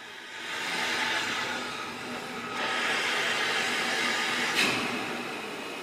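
A mixed goods train brakes to a halt at the main Furness siding station on a preserved railway line, giving a steady broad hiss and rumble with a brief sharper burst near the end.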